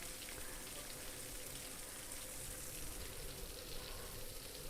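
Steady, even hiss of natural spring water flowing in a forest, a soft pattering wash that resembles rainfall, with no voices.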